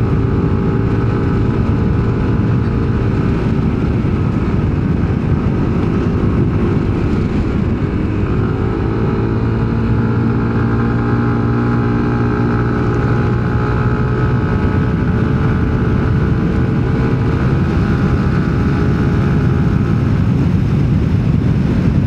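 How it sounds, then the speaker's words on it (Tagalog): Yamaha Nmax Techmax scooter engine braking in a low shift level through a corner, fitted with an NGK G-Power platinum spark plug; a loud, continuous engine drone with shifting tones and steady wind rush, no talk. "Engine braking yan."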